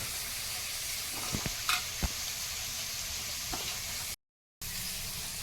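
Fish frying in a pan, a steady close sizzle running throughout with a few sharp pops and crackles, and a brief dropout near the end.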